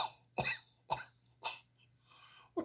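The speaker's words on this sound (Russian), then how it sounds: "А я кашлять буду вот здесь с гортанью." Four deliberate coughs pushed from the larynx rather than the chest, done as a breathing exercise against snoring, each a short sharp burst spaced roughly half a second apart, close and clear with a faint fifth starting at the end.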